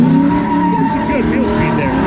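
A show car spinning its wheels at the SEMA Show in Las Vegas, a loud sustained engine roar with rising and falling tire squeal, heard from nearby while a voice talks over it.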